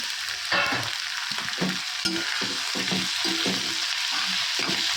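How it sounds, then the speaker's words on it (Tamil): Tomatoes and onions sizzle steadily in a hot pan while a spoon scrapes and stirs them in repeated strokes, close up and with no voices. "தக்காளி சேர்த்து நல்லா வதக்குங்க"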